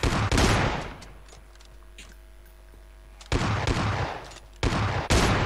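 Bursts of video game gunfire come in dense, loud volleys at the start, then drop to a quieter stretch with scattered pops before heavy rapid fire returns twice near the end.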